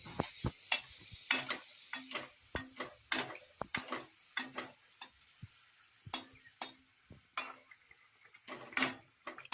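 Sanjori pastries fry in hot oil as a pan crackles and sizzles in close, irregular bursts of popping and spattering, with occasional stirring clinks and no voice.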